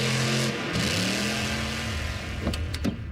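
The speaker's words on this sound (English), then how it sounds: "You can even stream it at a monster truck rally." A monster truck engine at a rally holds a steady droning tone, then shifts pitch and revs with a couple of sharp bursts near the end, loud and up front with no talk.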